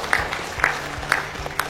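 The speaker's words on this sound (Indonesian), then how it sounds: "Tepuk tangan untuk Indonesia." Applause from a hall of school principals in Jakarta, with sharp claps recurring about every half second in a steady rhythm against a low background murmur.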